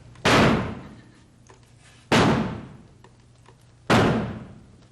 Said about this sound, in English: I thought I heard knocking.